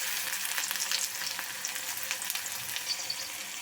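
Finely chopped garlic cloves fry in a pan as egg semiya is cooked, giving a soft steady crackling sizzle with light stirring scrapes throughout and no speech.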